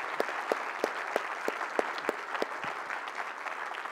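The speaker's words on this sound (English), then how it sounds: "give our panelists a round of applause and show your appreciation to them" Audience applause for the panelists at a financial talk event, a moderate crowd clapping steadily with some distinct claps standing out, slightly distant and fading a little toward the end.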